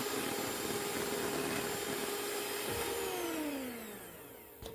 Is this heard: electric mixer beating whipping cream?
yes